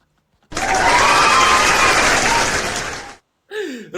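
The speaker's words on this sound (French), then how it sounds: "On applaudit pour Raoul Leblanc." A crowd's applause bursts in suddenly, a loud dense clatter of hands lasting nearly three seconds before cutting off abruptly, followed by a short voiced sound.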